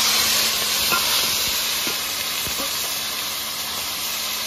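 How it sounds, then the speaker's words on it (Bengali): Marinated pomfret fish hits hot oil in a pan, setting off a steady, close, continuous sizzling hiss with a few faint knocks underneath. "এবার মাখানো মাছটাকে তেলের মধ্যে ঢেলে দেবো"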